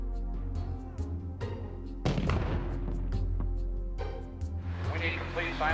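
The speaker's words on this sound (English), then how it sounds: "the mortars are tested." Explosive-loaded mortars test-fired for a stunt, a sharp blast near the two-second mark with a dense burst and rumbling crackle, then a second surge later, loud over constant background noise with people talking.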